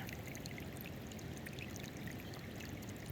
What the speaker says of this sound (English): The water has found a path of least resistance and is coming straight out of the ground right there.